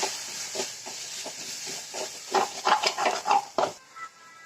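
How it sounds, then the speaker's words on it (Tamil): Scraping and clinking of a spoon stirring spices, including coriander powder, in a pan, a steady run of short strokes over a soft sizzle, close by. "இப்போ நல்லா கிண்டி விட்டுக்கலாம்."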